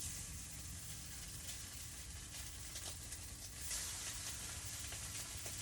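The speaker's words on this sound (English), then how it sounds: "You hear that sizzle from here, that's because it's a hot pan with bacon grease in it." Sausage sizzles in a hot pan with bacon grease, a steady dense hiss of frying that holds at an even level throughout, close by with no talk.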